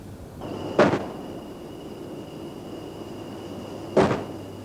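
HMS Manchester's 4.5-inch naval gun firing at sea, two heavy booming shots about three seconds apart, heard alone over a steady ship hum.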